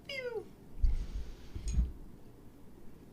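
A house cat gives one short rising-then-falling meow at the start, followed by a couple of soft low thumps nearby, with quiet room sound afterward.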